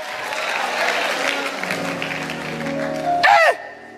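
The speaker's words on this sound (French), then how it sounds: "j'acclame pour toi. J'acclame." Audience applause fills the whole stretch as a steady, dense wash of clapping, with a brief sharp vocal cry or whistle rising over it near the end before it fades.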